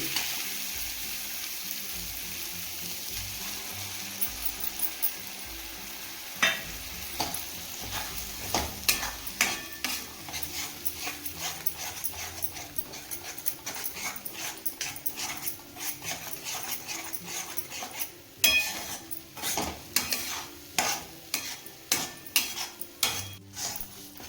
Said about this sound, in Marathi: आता आपण त्याच्यात वटाण वाटलेलं आहे त्याची पण पेस्ट याच्यात टाकून तिला पण चांगली परतून घेऊ